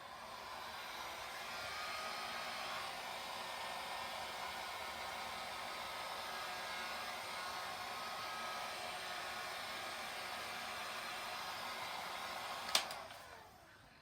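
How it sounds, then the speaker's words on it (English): A heat gun blows over alcohol ink thinned with a little isopropyl, giving a steady, even hiss of airflow that runs unbroken and fairly quiet before a sharp click as it is switched off near the end. "we're just going to blow it out with the heat gun"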